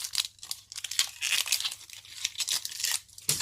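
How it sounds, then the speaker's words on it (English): Papery outer skin being peeled off an onion by hand in a kitchen, giving close, dry crinkling and tearing rustles in short bursts with brief pauses, no voices. "peel off the papery layers of the skin"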